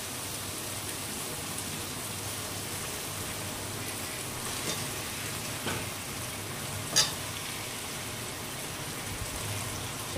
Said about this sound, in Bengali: আর এখন ভালো করে এবার কষিয়ে নেব।